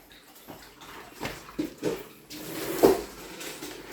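Water splashes and sloshes while things are rinsed during house cleaning, intermittent pours and clatters of wet items, moderately close, with a few soft knocks and no talk.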